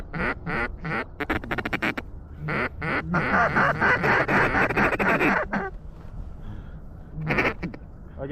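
Mallard ducks, drakes among them, quack loudly and repeatedly in bursts during a snowy duck hunt, with a dense stretch of overlapping calls in the middle and brief quieter gaps.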